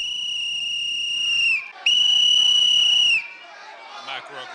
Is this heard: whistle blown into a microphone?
yes